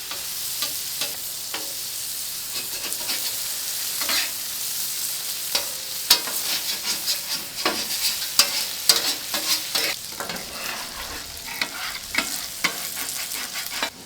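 Chorizo sizzles on a hot griddle as its grease renders out, with fajita vegetables cooking nearby. A steady, close frying hiss carries crackles and pops, along with occasional scraping and stirring, and no one speaks.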